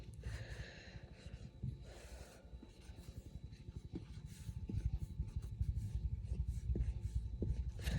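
Pen or marker scratching on paper while a number line is drawn by hand, quiet irregular strokes with soft breathing and faint room noise, no talking.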